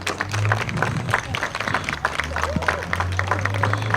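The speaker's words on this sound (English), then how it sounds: "Scouts, can we have a big round of applause for your leaders?" A Cub Scout pack's year-end meeting fills with applause and clapping from the crowd, steady and fairly close, with a low hum and voices mixed in underneath.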